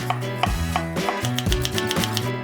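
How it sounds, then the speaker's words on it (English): A knife slicing through onion on a cutting board, a series of sharp chopping taps at a steady pace with background music underneath. "get your onion, and we're gonna slice it"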